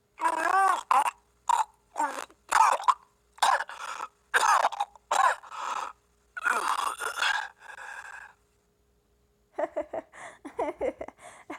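A video game character's string of harsh, rasping coughs comes in rapid bursts, followed after a short pause by gagging, retching noises.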